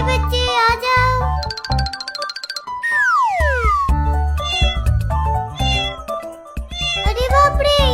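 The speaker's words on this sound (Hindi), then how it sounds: "वो रहा बिल्ली के बच्चे, चलो उसे पकड़ते हैं।" Kittens meow in quick, high, repeated cries over eight seconds, loud and close, with jingling and cartoonish sound effects mixed in indoors.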